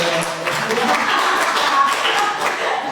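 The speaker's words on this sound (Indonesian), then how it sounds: "Boleh tepuk tangan dong buat Claresta dulu" An audience claps for a young participant named Claresta at a Buddhist dharma gathering, a close, busy patter of hands and taps that holds steady for a few seconds.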